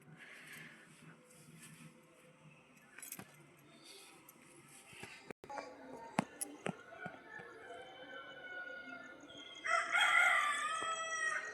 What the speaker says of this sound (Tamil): இப்போ சேவல் கூட கத்திகிட்டே இருக்குது பாருங்கள்